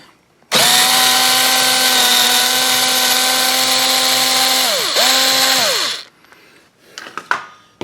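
A power tool spins out a grille bolt on a 2016 Chevrolet Sonic, a loud steady high whine held for about five seconds that dips briefly, runs on, then stops, followed by faint clicks.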